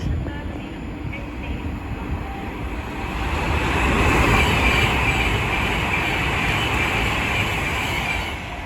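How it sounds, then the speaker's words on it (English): London Northwestern Railway Class 350 Desiro electric train pulling into a station, a broad rolling rumble that swells louder midway as it draws near, then holds steady and eases slightly. "Now arriving is the 1312 London North Western Railway service from London Euston to Northampton, being worked by a lot Class 350 Desiros"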